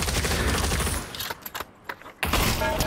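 Shotgun blasts in the Pavlov VR shooter game, loud dense bursts of gunfire filling the first second, then scattered sharp shots and thuds before another heavy burst near the end.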